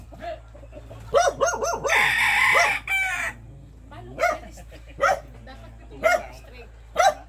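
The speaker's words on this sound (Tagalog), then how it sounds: "Et, ito yung mga manok ni Sir Butch, oh." A rooster crows loudly and several shorter clucks and calls from chickens follow in bursts, close by on a mountain chicken farm, with voices talking in between.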